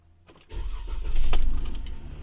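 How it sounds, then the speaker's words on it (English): A Dodge Ram car engine cranks and catches, then settles into a low rumble that swells in loudness, close by. "Going to start the engine"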